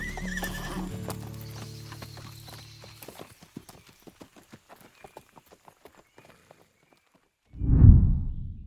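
Steady clip-clop of horse hooves walking on a trail, a regular rhythm of hoofbeats, ending with a loud snort or whinny up close.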